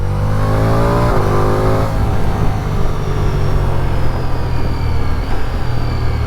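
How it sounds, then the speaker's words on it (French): A 2026 Ducati Diavel V4 motorcycle accelerating on a secondary road, its loud engine note rising and dropping through quickshifted gear changes, close and continuous with no talk. "Shifter parfait, moteur réactif, sonorité envoûtante."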